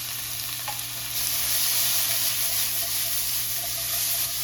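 Garlic stir-frying in a hot pan, with onions already in, gives a steady close sizzle and hiss that swells after the first second and holds without a break, with no voices over it.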